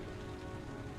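Rain pours steadily in the video game Heavy Rain, a dense, constant patter on hard surfaces, close and enveloping with no speech.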